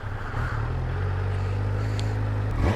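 A 2022 Kawasaki Z900 50th Anniversary motorcycle engine runs close by with a steady low idle rumble, then gives a quick rise in pitch near the end as it is revved.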